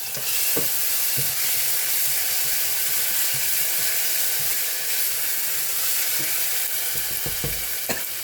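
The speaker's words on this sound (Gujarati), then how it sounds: "તેમાં મેં અડધી ચમચી આદુ મરચાં વાટેલા લીધા છે, તે નાખીશું।" Crushed ginger and green chili go into a hot pan of oil and sizzle loudly and steadily up close, with a few scraping stirs of a spoon against the pan.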